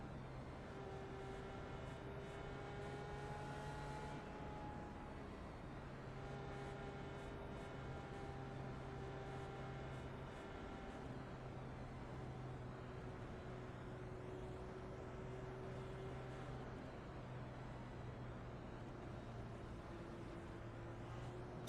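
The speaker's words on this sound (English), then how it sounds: "They've got a really interesting engine noise to them." An IndyCar engine at Pocono in the iRacing game drones as a steady, faint harmonic whine that holds its pitch and shifts slightly from time to time, continuous throughout with no talking.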